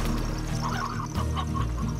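Hens clucking in the video game Slime Rancher, a short burst of soft chicken clucks close by over a steady background of game music and ambience.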